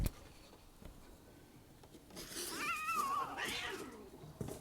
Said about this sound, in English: we got these cats fighting.